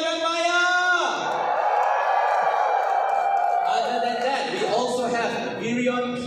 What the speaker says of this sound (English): Can I get a cheer for Liliana?